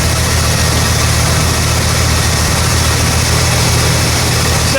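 An Oldsmobile 442 engine idles at about 1100 RPM, a loud, steady low rumble with constant mechanical vibration throughout and no voices.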